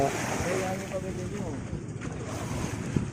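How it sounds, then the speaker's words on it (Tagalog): Wind buffets the microphone over a low engine rumble and rushing water as a motorboat carries passengers across the sea, with faint voices in the background. "Sakay na kami ng bangka."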